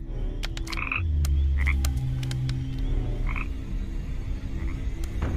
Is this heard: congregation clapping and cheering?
no